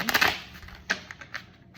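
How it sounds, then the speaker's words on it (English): Quick papery riffling bursts, a flurry at first and then a few lighter flicks, close by and fairly quiet. "So I'm going to shuffle one more time."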